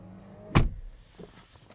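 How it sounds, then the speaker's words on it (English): A power door on a 2023 BMW 760i xDrive closes at the press of a button, giving one solid thunk as it shuts, followed by faint mechanical settling in a quiet cabin. "got a button here to shut the door"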